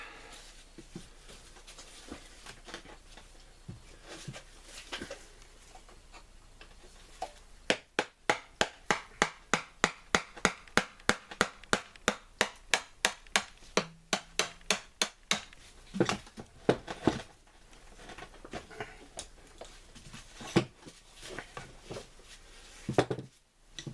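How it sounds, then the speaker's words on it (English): Work on a blown transaxle case, pried apart with a pair of flathead screwdrivers, brings a fast run of sharp, regular metallic taps midway, with scattered knocks and clatter before and after, close by and without speech. "go around it with a couple of flathead screwdrivers, see if we can get it open and find out exactly what went and blew up"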